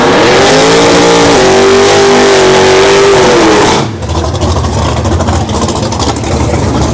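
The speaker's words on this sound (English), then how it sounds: "just by the appearance and the sound of the car" A loud drag racing car engine at a dragstrip roars at a steady high pitch, then drops into a rougher, lower idle rumble.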